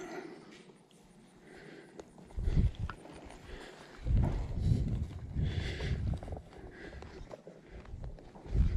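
A ridden horse walks at an easy pace in a vaquero-style two-rein setup, with soft, intermittent hoof thuds and clip-clops heard fairly close amid quiet outdoor ambience, rising in short bursts without talk.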